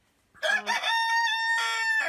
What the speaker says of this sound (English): He's the most friendly cockerel in the world